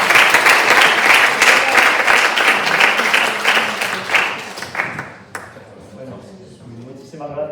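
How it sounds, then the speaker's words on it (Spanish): Audience applause at a talk on children's and youth school choirs, loud dense clapping that fades out after about five seconds, then a speaker's voice begins. "Un aplauso"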